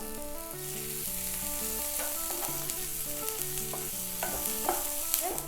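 Onions softening in a pan with melted butter and panko breadcrumbs, a steady sizzle and frying hiss carrying on throughout with occasional stirring scrapes and clicks, under light background music.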